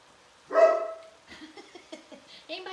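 Griswold, a pet dog, lets out one loud close bark followed by a string of softer yips, whines and grumbling vocal noises.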